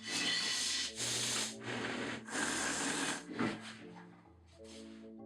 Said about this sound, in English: we're going to go to this belt sander and just very, very quickly just square it off and tidy it up.